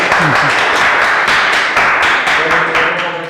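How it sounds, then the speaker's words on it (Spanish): Audience clapping after a mathematics lecture, dense steady applause with a few voices underneath, heard close and loud from start to finish. "Un aplauso, por favor."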